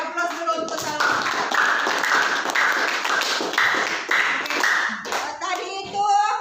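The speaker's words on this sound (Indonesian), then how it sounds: "Beri aplaus dulu untuk Salwa" Classroom applause for a student, many hands clapping together in a dense, steady burst that fills the room, with a few children's voices faintly mixed in near the end.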